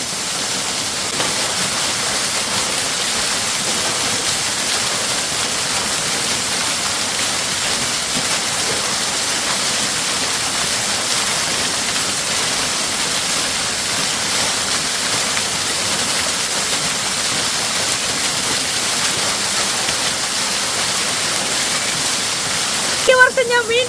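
A waterfall on a private plot of farmland roars steadily and close by, a dense, unbroken rush of falling water that fills the whole stretch, with a brief disturbance near the end.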